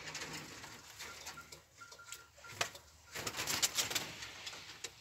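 Pigeons coo softly in a loft among newly acquired birds, faint and intermittent over quiet rustling and light pattering.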